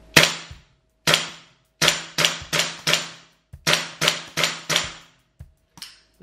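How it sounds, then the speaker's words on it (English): A GHK M4 gas blowback airsoft rifle running on HPA, fired semi-auto without a magazine: about a dozen sharp, loud mechanical cracks in uneven bursts, each with a short metallic bolt clack, close and alone. "first I will take a few semi-shots just to show you how it runs without the magazine"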